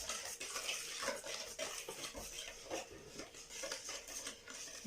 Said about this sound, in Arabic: Après je rajoute mes 2 verres de farine.